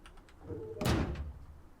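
A door slides shut in the survival game Rust, a single loud whooshing thunk near the middle, preceded by faint clicks and followed by a short fading rumble.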